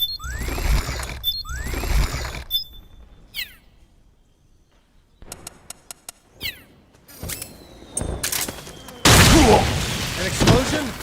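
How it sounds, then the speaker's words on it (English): Explosions in Metal Gear Solid 4: Guns of the Patriots come as a loud, rumbling blast near the end, after mechanical clicks, clanks and scattered gunfire. "An explosion?"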